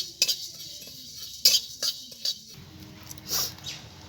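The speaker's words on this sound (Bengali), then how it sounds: "শুকনো গুলো আমি একটু ভেজে নেব।" Whole spices, torn bay leaf with cumin and coriander seeds, dry-roasted in a pan, heard as a few sparse metallic scrapes and clinks of a spoon stirring against the pan, with quiet gaps between.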